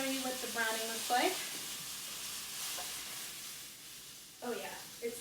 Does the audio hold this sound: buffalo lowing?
no